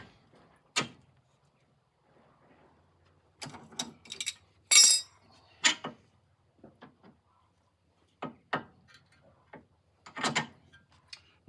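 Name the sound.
tightening a nut with a spanner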